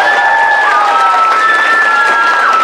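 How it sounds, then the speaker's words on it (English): A school transition year variety show audience applauding and cheering, a loud continuous wash of clapping from a large crowd with whoops and high shouts ringing over it throughout. "Give her a big round of applause there as well"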